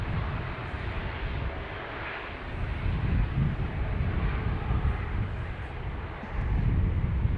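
A Ryanair airliner arriving from Brussels at Dublin Airport's north runway, a steady broad jet roar that swells slightly louder near the end, heard alone with some wind buffeting.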